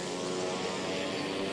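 A fixed-wing airplane flies over paddy fields spraying fertilizer, its propeller engine droning steadily at moderate distance, a continuous hum that holds level without pause.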